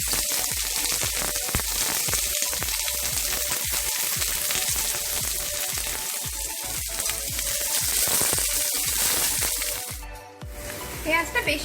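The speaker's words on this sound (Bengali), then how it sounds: "পেঁয়াজটা বেশি ভাজতে হবে না, একটু ট্রান্সপারেন্ট করে ভেজে নিলেই হয়ে যাবে।" Chopped onions fry in hot oil with a dense, steady sizzle and crackle. Close spatula stirs and scrapes break through now and then, and a voice talks faintly underneath.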